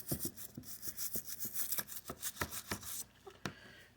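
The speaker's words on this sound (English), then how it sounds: "I'm still going to go ahead and scrub my toes." Toes are scrubbed during a self pedicure, a quick series of close, soft rasping brush strokes in a steady back-and-forth rhythm that slows and stops near the end.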